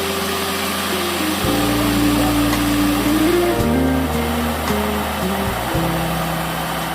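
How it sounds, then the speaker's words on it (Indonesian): An electric hand mixer runs at high speed whipping homemade gelato batter, a loud, close, continuous whine whose pitch steps up and down as the beaters work, with no voices. "Lalu mixer dengan kecepatan tinggi selama kurang lebih 20 menit."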